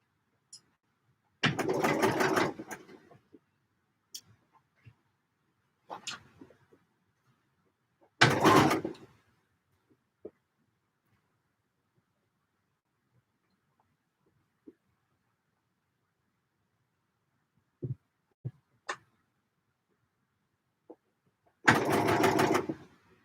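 Sewing machine stitching a muslin mock-up in short, separate bursts, a few seconds of running followed by long quiet gaps and a few faint clicks.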